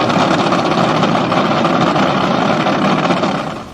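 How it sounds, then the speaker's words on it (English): A Top Fuel drag racing engine built by Ross Racing Engines of Niles, Ohio, for Team Great Expectations 3 gives a loud, continuous droning roar that holds steady before fading away at the end. "Ross Racing Engines of Niles, Ohio, built this bad power plant for Tyler Hilton and Team Great Expectations 3"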